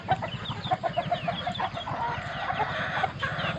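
Chickens cluck repeatedly at close range in a morning farmyard, a steady run of short calls with a rooster's crow rising near the end.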